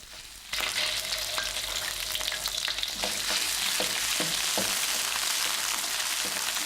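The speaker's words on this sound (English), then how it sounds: "The first thing we'll do is add our curry pastes to a 1/2 cup of cooking oil, which we've heated over a medium-low flame." Curry pastes dropped into half a cup of hot cooking oil in a wok over a medium-low flame, a sudden onset of loud continuous sizzling and spitting with occasional stirring clicks, no talk.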